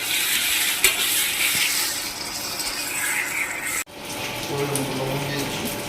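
Chicken frying in a pan with a steady, close sizzle and stirring scrapes, briefly cutting out near the end before resuming; a voice can be heard at moments.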